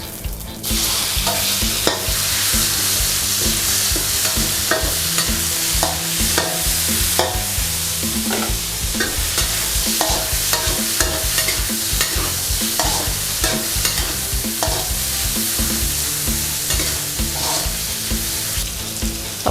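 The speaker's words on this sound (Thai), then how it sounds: "ต่อไปก็ใส่ตับหมูลงไปผัดได้เลยค่ะ" Pork liver stir-frying with chopped garlic in a hot pan, a loud continuous sizzle close up with frequent scraping stirs and spatula clicks throughout.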